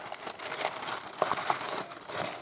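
Paper packaging of a Glossy Box beauty subscription box crinkles and tears as it is unwrapped, close and fairly loud, in a continuous rustle with sharper rips and no talk.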